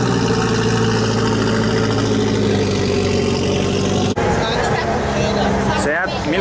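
A Renault Maxi 5 Turbo classic car idling at a classic car meet in Sant Joan de Palamós, a loud, steady engine rumble with crowd chatter around it, then a sudden cut to quieter mixed noise.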